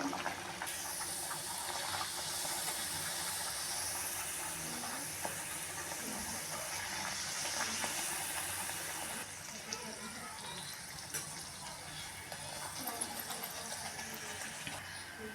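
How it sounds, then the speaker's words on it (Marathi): Puris deep-fry one at a time in well-heated oil for a thalipeeth and puri spread, filling the space with a steady loud hiss and bubbling sizzle that runs throughout and eases slightly partway, with faint talk underneath. "तेल आपलं चांगलं गरम झालेलं आहे त्यात आता एक एक करून या पुऱ्या आपण तळून घेऊया"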